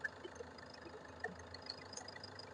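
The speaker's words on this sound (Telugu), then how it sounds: "ఇంజన్ అయితే చాలా సైలెంట్ ఉంది. CRDI engine." A Hyundai Verna 1.6 SX CRDi diesel from 2016 idles very quietly in a steady, low, even hum, faint and continuous with no revving.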